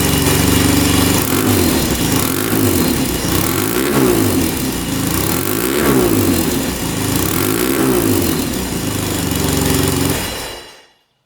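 A used 4x4 ATV, recently repaired after a smoking fault, idles loud and close with rhythmic engine pulses that swell in repeated revs for about ten seconds before cutting off abruptly.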